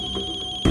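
A mobile phone rings with a steady electronic tone, close and clear, cut off abruptly by a burst of louder sound near the end.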